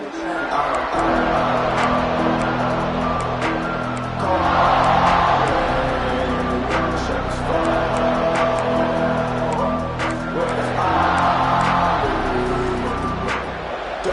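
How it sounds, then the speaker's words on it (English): A loud, steady roar from a big American football stadium crowd, swelling and easing in waves beneath someone talking over it. "this crowd is fired up. Listen to this noise here"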